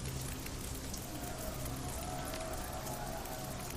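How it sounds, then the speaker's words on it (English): Rain falling in the cyberpunk video game Shadowrun Hong Kong, set in the Walled City: a steady, dense wash of hiss and patter that stays even throughout, with a faint tonal hum underneath. "It's raining."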